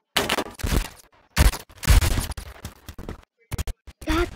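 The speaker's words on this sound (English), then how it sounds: "I'm actually gonna pull my pistol out." Sharp bursts of gunfire in the shooter game Phantom Forces, pistol shots and clattering rapid volleys coming in loud, close clusters separated by short silences.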